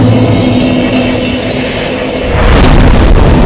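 A bonfire being lit in Dark Souls during the Oolacile area, a steady loud whooshing roar that swells and brightens partway through, booming low rumble throughout with no talking.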